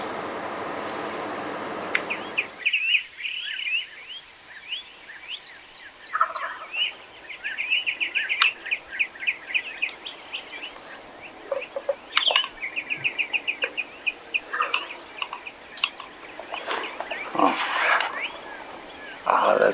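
A wild turkey gobbles repeatedly on a Kansas morning, the calls coming at irregular intervals from a moderate distance over steady outdoor ambience with chirping songbirds, and someone speaks quietly between the gobbles.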